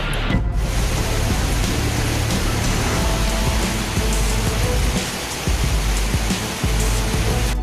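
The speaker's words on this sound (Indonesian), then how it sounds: "karena situasi saat ini hujan deras" Heavy rain during a storm with landslides and flooding in Ngantang, Pujon, a dense continuous downpour hiss that is loud and steady, with a faint low rumble underneath.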